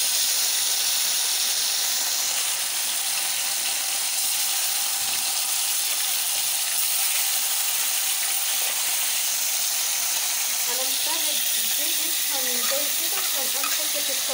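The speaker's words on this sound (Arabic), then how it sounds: "نخلي الزيت يسخن جامد خالص، عشان لما نحط الفاهيتا احنا محتاجين ان احنا عايزين تبقى فيها حتة صدمة" Fajita meat hitting very hot oil in a pan gives a loud, steady hiss of sizzling that holds throughout, close by, with faint talk near the end.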